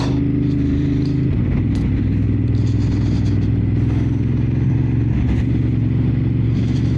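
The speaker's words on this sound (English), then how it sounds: "the engine is so perky" Ducati Monster 950 motorcycle engine running steadily while being ridden, a loud, continuous near rumble with a shift in pitch partway through and wind noise over it.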